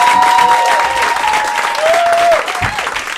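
Comedy club crowd giving a round of applause, a dense, loud burst of clapping in a small venue that fades near the end.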